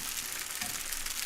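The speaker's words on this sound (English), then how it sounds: "now listen to that. That's the sizzle we're looking for." Pasta sauce for fried ziti ladled into a hot pan, giving a close, continuous hissing sizzle with no talk.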